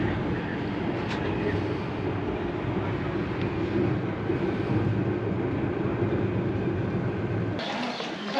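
The Zermatt shuttle train runs with a continuous rumbling, rattling roar heard from inside, steady throughout before cutting off near the end.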